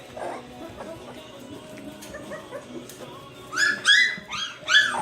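Three-week-old Taffy puppies whimper and yip in a litter, with faint squeaks early on and then several loud, high, rising yelps in quick bursts toward the end, close by.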